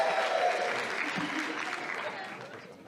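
Wedding reception guests applaud and cheer as the best man is introduced, a dense burst of clapping that is loudest at the start and slowly fades. A voice talks over it partway through.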